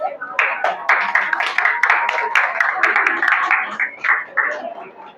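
Audience clapping at a Sai Baba temple event: a steady run of overlapping handclaps, close and fairly loud, lasting about five seconds before tapering off.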